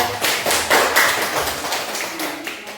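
A few people clapping in a classroom group discussion session, a short burst of sparse, uneven claps up close that tapers off within a couple of seconds.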